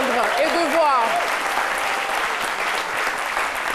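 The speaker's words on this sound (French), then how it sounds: "ces applaudissements ne sont pas suffisants pour ce qu'on vient d'entendre et de voir." Applause from a studio audience on a French-language Ivorian TV talk show, a loud continuous wash of clapping with a voice talking over it at the start.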